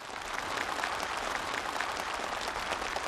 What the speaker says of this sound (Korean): 참가자들의 열렬한 박수 속에 전달됐습니다